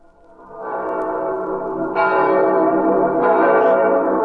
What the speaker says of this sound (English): Listen to the bells of St. Peter's calling the faithful to midnight mass on this holiest of nights.